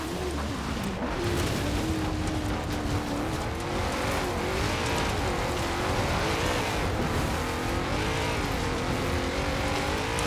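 The stock 2002 BMW M3-GTR racing car in Forza Horizon 4, heard from outside through side exhausts, revs hard with a loud continuous engine roar rising and falling through gear changes, with faint tire squeal, no talk.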